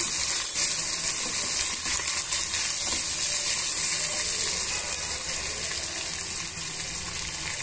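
Onion and green chili pieces frying in a pan: a loud, continuous bright sizzle with faint scraping and clicking of stirring underneath, steady from start to finish with no talk.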